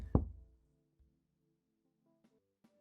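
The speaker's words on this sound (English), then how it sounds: "I was about to turn in for the night when I heard a knock on my door." A single sharp knock on a door at night, close and fairly loud, followed by near silence with a couple of very faint taps.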